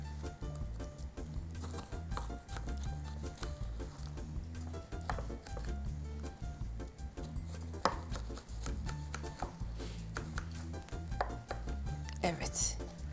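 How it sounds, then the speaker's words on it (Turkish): Knife cutting a crispy, flourless brownie into large pieces in a kitchen, quiet repeated crunching and tapping chops against a board, close and faint with scattered small clatters. "Bıçağım yardımıyla birazcık irice parçalara ayırıyorum."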